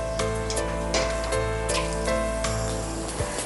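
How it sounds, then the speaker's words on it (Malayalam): Mustard seeds crackle and sizzle steadily in hot oil in a pan, a continuous dense frying hiss with scattered pops, close and even in loudness. "അപ്പോൾ കടുക് നന്നായിട്ട് പൊട്ടി തുടങ്ങിയിട്ടുണ്ട്."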